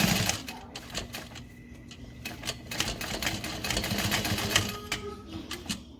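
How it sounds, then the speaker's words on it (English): A sewing machine stitches a backpack in short, uneven runs, with close rapid ticking and clacking over a low mechanical hum. "I'm going to pull to the side so I can stitch over them"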